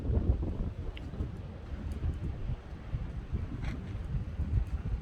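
Strong gusts of southeast wind roar steadily with low-frequency buffeting that sounds close, likely rushing through trees ahead of an incoming storm; there is no talk.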